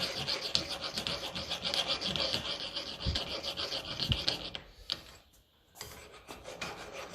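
A damaged Massey Ferguson 35 tractor part held in a vise is filed flat with rapid, rhythmic rasping strokes, close and steady, pausing briefly near the end before resuming.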